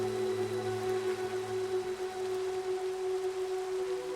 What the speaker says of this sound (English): I mean, it is raining